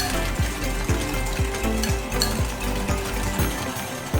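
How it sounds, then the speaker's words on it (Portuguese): A whisk beats egg yolks with refined sugar in a bowl, making close, steady scraping strokes about twice a second. The rhythmic clatter continues without talk. "pegar o fouet e vou branquear um pouco, ou seja, misturar essas gemas com o açúcar"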